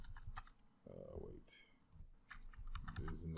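Rapid clicking of keys on a computer keyboard as someone types a search phrase, with a voice talking over parts of the tapping.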